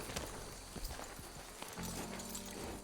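Hooves of a Morgan horse in a video game clop in a quick, uneven rhythm, close and distinct over a steady ambient bed, with no talk.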